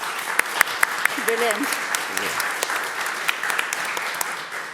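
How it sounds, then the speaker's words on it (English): Applause from an audience at a tenth-anniversary jubilee event, a steady wash of clapping with sharp individual claps standing out, while a voice speaks briefly over it. "I think you deserve a round of applause."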